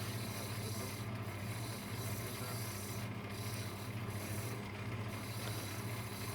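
An opal stone is shaped at its edges to fit a silver bezel for an emerald green pendant, giving a quiet, steady rasping rub that continues without pause.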